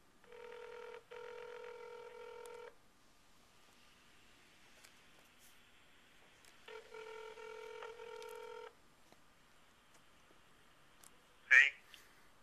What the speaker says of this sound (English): I want to make a phone call here.